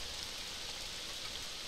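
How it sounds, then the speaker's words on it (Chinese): Steady, soft rain hisses without a break inside a horror video game, a faint continuous wash with no voices over it. "我一直听到下雨的声音啊。"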